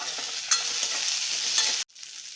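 Red chillies, cloves and cinnamon dry-roasting in a pan for chicken curry, with a steady close sizzle and repeated scraping stirs. The sound cuts off abruptly near the end.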